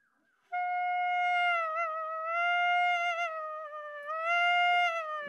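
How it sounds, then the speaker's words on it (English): A saxophone holds a sustained note while the pitch is bent up and down by mouth voicing alone, swooping smoothly with wavering inflections, clear and close throughout. "So now if I translate that to the saxophone, it sounds like this."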